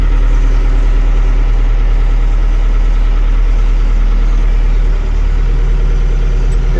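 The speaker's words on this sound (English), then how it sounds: "So this is the noise I'm getting from my hydraulics." A tractor's hydraulic pump runs noisily over a loud, steady engine idle that drones close up and constant throughout, with no speech.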